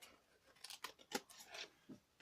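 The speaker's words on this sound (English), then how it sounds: "Cut a wedge in. Cut a bit off." Scissors snipping a wedge out of paper for a chocolate orange gift box, several soft quick close-up cuts in an uneven rhythm, faint and without talk.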